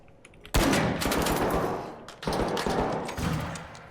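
Bursts of rapid automatic gunfire in the video game ARC Raiders, loud and close, with a sharp onset followed by sustained rattling volleys and a brief pause midway.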